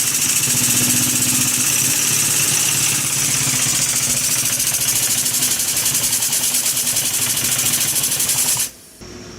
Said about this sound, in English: then you can turn the engine on with the valve